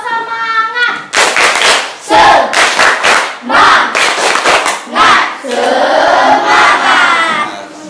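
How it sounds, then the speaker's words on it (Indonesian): A classroom of schoolchildren chant loudly in unison while clapping a rhythmic spirit clap, shouted syllables alternating with bursts of hand claps, the chant ending in a long sustained cry. "Kita iringi dulu dengan tepuk semangat ya anak-anak"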